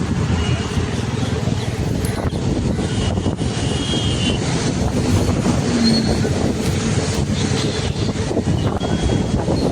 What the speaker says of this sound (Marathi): हे बघा, डोंगराच्या दिशेने रेल्वे पट्टीवरती रेल्वे धावत आहे. ती मालगाडी आहे. खूप वेगानं चाललेली आहे ती.